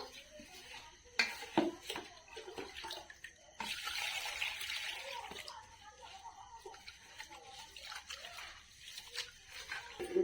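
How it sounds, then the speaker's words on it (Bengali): Rice being washed by hand in water gives intermittent swishing and splashing with light clinks of a pot, fairly quiet and close. "প্রথমে চালটাকে ভালোভাবে ধুয়ে নেব"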